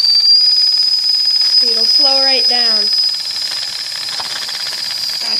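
A small D5 model steam engine gives off a sustained high whistle tone over steady steam hissing, close and fairly loud, while someone speaks briefly partway through.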